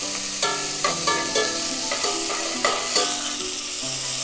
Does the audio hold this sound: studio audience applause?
no